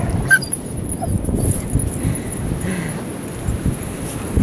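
A dog whimpers and lets out thin, high squeaks in short bursts, close by, over a busy outdoor background of movement and rustling.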